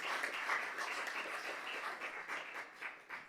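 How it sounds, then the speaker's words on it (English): Applause at a council meeting, a steady wash of clapping from the assembled room that lasts throughout and fades slightly toward the end. "Can we give Adair a round of applause for this?"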